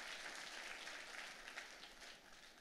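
A church congregation at an Indonesian worship service applauds together, a soft, steady patter of many hands heard from a distance, with no voices over it.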